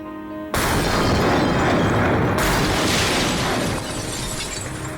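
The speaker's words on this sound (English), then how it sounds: "The SC-50 detonated at 25 metres away." An SC-50 bomb detonating 25 metres away in a wartime blast test, an abrupt loud boom that becomes a long, dense roar of rushing debris, easing slightly toward the end.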